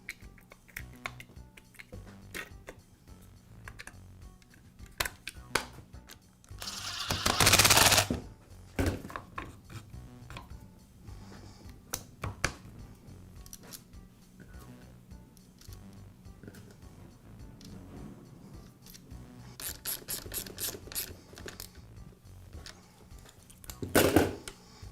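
Makita demolition hammer cover being reinstalled by hand, giving a string of soft plastic clicks and snaps with a louder rattling burst near the start and a few sharp taps toward the end, close and otherwise quiet.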